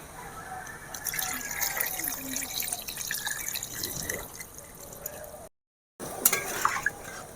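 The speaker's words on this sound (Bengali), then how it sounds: "এবারে পরিমাণ মতো জল দিয়ে দেব।" Water is poured into a pot of chicken stew, a continuous splashing and filling sound close by that stops abruptly near the end.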